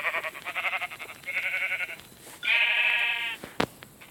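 Sheep in a video game bleat close and loud, two quavering calls followed by a longer, higher bleat, then a sharp click near the end.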